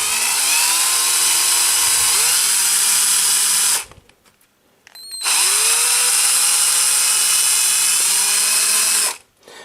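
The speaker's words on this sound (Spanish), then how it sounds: "Tomamos también un taladro atornillador, broca para metales, de 3 milímetros y medio," A drill driver fitted with a 3.5 mm metal bit bores a hole, running loud and steady with a whining motor in two long bursts separated by a short pause, with no talking.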